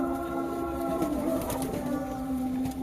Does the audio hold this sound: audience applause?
no